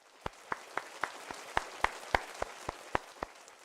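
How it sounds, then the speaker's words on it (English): A single person claps about a dozen times at an even, fairly quick pace, each clap sharp and distinct against a quiet room. "let's give a clap for that"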